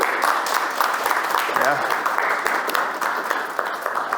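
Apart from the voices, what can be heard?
audience round of applause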